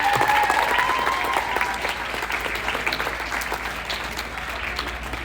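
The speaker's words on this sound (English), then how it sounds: "can we just have one last round of applause for all of our fellowship winners?" Steady, sustained applause from an audience honoring fellowship award winners at a tribute and awards presentation, a dense clapping wash that stays fairly even for several seconds before slowly easing.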